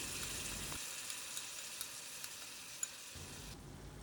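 Beaten curd, about 200 grams, goes into spiced mutton for Mughlai korma, with a soft steady sizzle and a few light stirring clicks in the pan, no voices.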